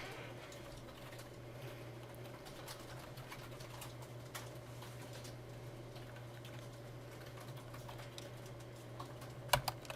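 Faint, rapid keystrokes on a computer keyboard tick along over a steady low room hum during a programming lecture, with a couple of sharper clacks at the very end.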